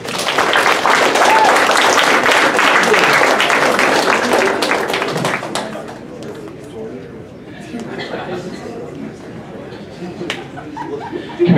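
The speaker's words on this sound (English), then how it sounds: "Everybody in the audience, let's give them a round of applause." Audience applause at a high school comedy hypnosis show, loud and dense for about five seconds and then thinning out to scattered clapping and some laughter, with a voice talking over the crowd.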